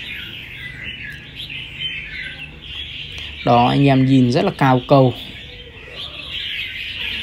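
A wild-caught songbird, a caged magpie robin, sings close to a phone, its steady high chirping running throughout under someone speaking briefly in the middle.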